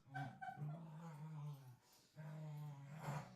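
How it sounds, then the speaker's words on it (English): Dogs scuffle indoors close by, giving drawn-out high whines and whimpers with a low growly undertone in two long bouts separated by a brief pause. "The dogs are eating each other."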